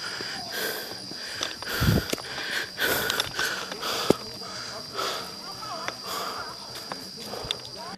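A cameraman pants heavily after reaching the top of a climb at Afadjato, with ragged, wheezy breaths and sniffs over steady outdoor noise and occasional rustling.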